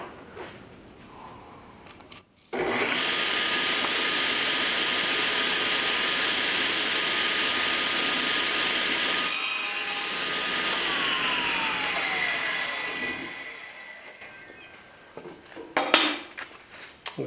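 A power saw cuts through plywood in one long, loud, steady whine. It winds down with a falling pitch and is followed by a few knocks.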